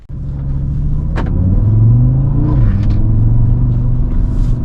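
An Audi RS Q3 heard from inside while driving, a loud, close engine rumble that rises with acceleration and steps through a gear change midway, then settles into a steady drone.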